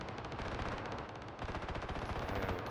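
Rapid automatic gunfire in PUBG rattles on in a steady, tightly spaced stream with a brief pause midway, fairly faint and distant-sounding, with no talk.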